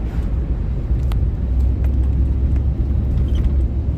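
The engine of a 1998 Chevrolet C1500 pickup under full throttle gives a loud, deep, steady roar of driving rumble that stays even through the whole stretch.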